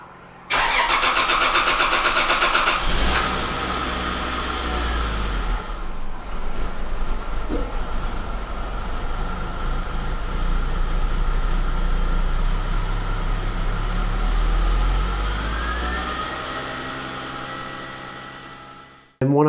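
A turbocharged Lexus IS300 with a 2JZ-GE engine cranks briefly and fires up, then settles into a loud, steady idle close by, with a low rumble and faint whine, before shutting off at the end.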